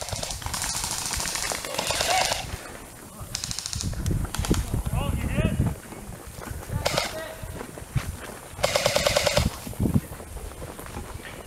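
Rapid bursts of toy gunfire from an outdoor shooting game, crackling in repeated clusters of quick shots near and far, with players talking and calling out between bursts.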